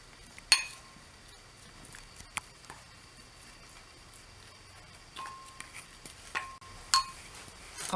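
A spoon mixing pepper and grated garlic in a bowl gives sparse, light clinks and taps against the bowl, close and quiet, with soft stirring between the sharper knocks.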